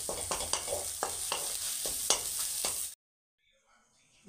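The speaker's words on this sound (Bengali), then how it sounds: "চাউমিনের জন্য আমি ডিমটাকে এগ ভুর্জি বানিয়ে নিলাম।" Beaten eggs sizzle and get stirred in a hot pan as egg bhurji for chowmein, a loud crackling fry with repeated scraping strokes that cuts off abruptly into near silence.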